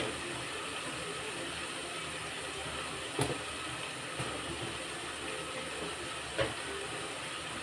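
Peanut pachadi ingredients fry in a pan with a steady, quiet hiss and sizzle, broken by a few faint pops and clicks, with no voices.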